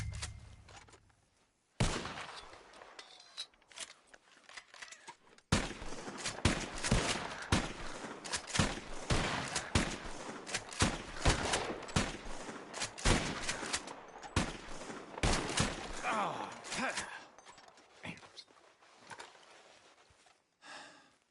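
Gunfire in a western shooting contest in a video game, a dense fusillade of rapid sharp shots going on for most of the stretch after a short quiet opening, loud and close, with no talking.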